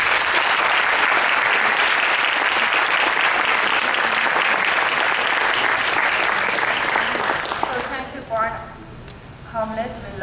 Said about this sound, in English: And may I ask to have a nice round of applause.